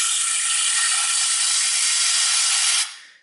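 Compressed air blowing on the MAF air flow sensor from a Ford Zetec engine, a loud steady close hiss for nearly three seconds that cuts off abruptly.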